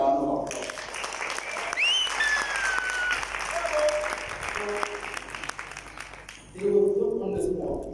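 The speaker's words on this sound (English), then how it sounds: "Can you please give them another round of applause?" An audience breaks into sustained applause, a dense wash of clapping that swells near the end, with voices and a few whistles heard over it.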